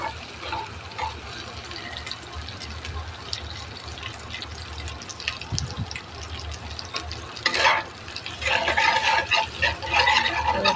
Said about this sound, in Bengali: যাতে ডিম সাথে মিক্স হয় এবং ডিমটা যাতে ভেঙে যায়। এটা একটু ভেজে নেব বেশ ভালোভাবে।